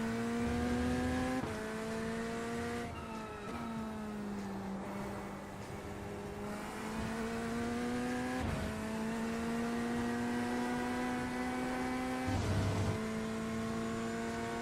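A race car circles Spa in the iRacing sim, its engine a steady loud drone that climbs through the gears, with sharp drops and rises in pitch at each shift and a few brief shifts and bumps along the way.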